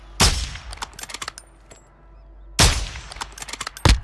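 Gunfire in Call of Duty DMZ: a loud sharp burst of shots with rattling follow-ups, a short lull, then a second heavy volley of rapid shots, with no talking.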